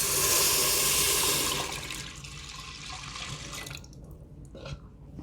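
Two cups of milk poured into an Instant Pot with sabudana, a strong continuous liquid rush at first that thins into a softer trickle and fades out, close and alone without talk.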